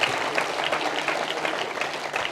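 An audience claps continuously and steadily throughout, a dense, fairly loud wash of many hands with no talk over it.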